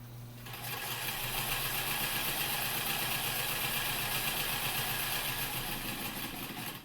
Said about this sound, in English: actually fighting my sewing machine